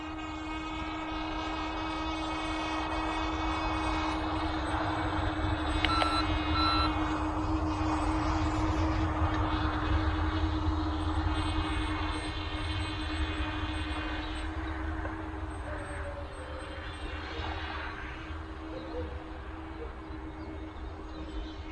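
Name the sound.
LYZRC L100 toy drone flying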